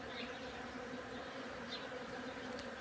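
European honey bees buzz steadily around a person outdoors, a faint continuous drone with brief louder passes near the ear, no talk.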